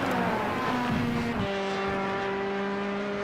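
Race cars roaring flat out in a sim racing broadcast of a 90-minute Le Mans event, steady loud engine whine with a gear shift midway and a sustained high note after, two cars running close.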